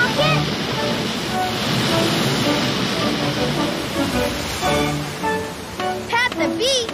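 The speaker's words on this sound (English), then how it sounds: "But here come the biggest, loudest waves yet!" Big, loud ocean waves surge and crash at Kiholo Bay, a steady roar lasting throughout, with music and children's voices over it.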